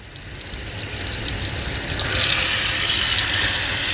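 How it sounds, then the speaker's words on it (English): Water runs from a sink faucet into a paper-towel-lined sink, a steady rushing stream that swells louder partway through and continues alone. "I'm going to go ahead and turn on the water."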